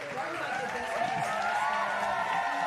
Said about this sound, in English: Round of applause for Joseline Hernandez, the Puerto Rican princess in the building.